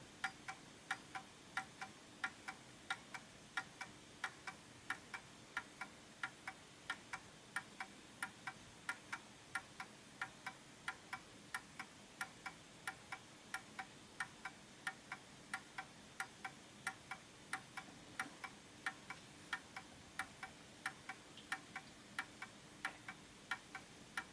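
An Art Deco Enfield Westminster chime mantle clock ticks at a steady, even pace, its faint, regular beats continuing alone against a quiet background hiss.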